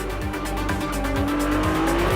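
Ferrari 296 GTB with a V6 hybrid engine revving hard, a loud rising engine note with repeated pulsing surges as it accelerates, close and without talk.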